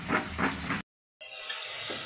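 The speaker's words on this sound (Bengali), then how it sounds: "এদিকে ডাঁটা ধোয়া হচ্ছে" Tap water runs steadily over drumstick (moringa) stalks being washed, a soft hiss that cuts out briefly and then resumes.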